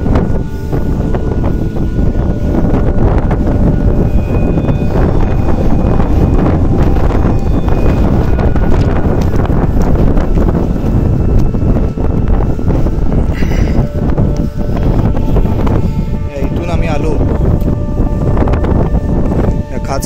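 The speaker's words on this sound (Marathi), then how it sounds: "वाऱ्याचा आवाज तुम्हाला इथे नक्कीच येत असेल." Strong wind buffets the microphone on an exposed spot at the Badami cave temples in Karnataka, a loud continuous rumbling roar that lasts the whole stretch with no letup.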